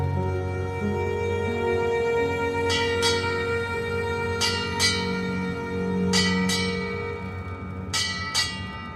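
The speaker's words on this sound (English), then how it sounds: "The sounds of the dinner bell ring through the ship" A dinner bell rings aboard a ship in several pairs of bright strikes over a steady low engine-like drone and ambient music, clear and moderately near.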